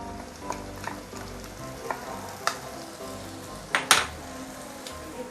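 Chili frying in a little hot oil in a pan, a steady close sizzle with several sharp metallic clinks of a utensil against the pan.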